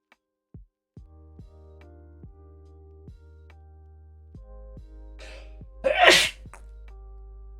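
A single loud sneeze bursts out near the end after a few soft taps and a low hum, close and clear in a quiet room where miniatures are being painted.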